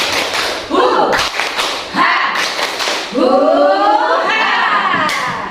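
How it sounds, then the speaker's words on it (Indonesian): An audience of women at a school positive-culture session clapping in short rhythmic bursts, loud and close, mixed with shouts and children's voices between patterns of claps. "Sekali lagi tepuk semangat."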